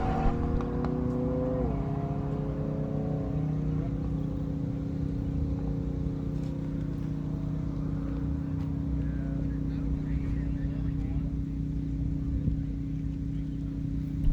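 Drag racing cars at a no-prep dragway, a Subaru Turbo lined up against a Mopar: a loud, sustained engine drone with shifting pitch as the cars run, with an announcer talking over it.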